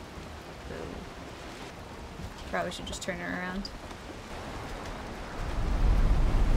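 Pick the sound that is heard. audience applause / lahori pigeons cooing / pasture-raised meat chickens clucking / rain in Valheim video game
rain in Valheim video game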